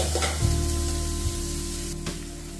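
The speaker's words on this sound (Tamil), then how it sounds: "பொன்னிறமா வதங்குற வரைக்கும் வெங்காயம் ஸ்லோ ஃப்ளேம்ல வச்சு நல்லா வதக்கவும்" Sliced onions sautéing slowly over a low flame for paneer bhurji, a steady close sizzle with brief stirring scrapes, no voices.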